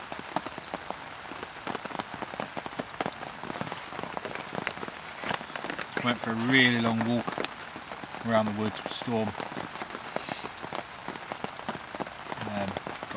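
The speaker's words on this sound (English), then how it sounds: "the rain's that heavy, it's just hitting it, misting through and soaking everything" Heavy rain pelts a tarp stretched beneath a parachute shelter in the woods, a steady dense patter throughout, while someone talks over it and a dog's sounds briefly break through.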